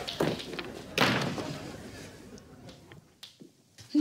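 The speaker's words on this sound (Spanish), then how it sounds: "Gonzalo, cierra la puerta." An indoor door shut in a Spanish TV comedy scene: a sharp slam near the start followed by a second heavy thud about a second later, then faint rustling and small taps, with no voices heard.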